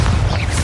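A Bombarda explosive spell going off in the video game Hogwarts Legacy, a short, dense, booming blast with heavy low rumble filling the brief moment.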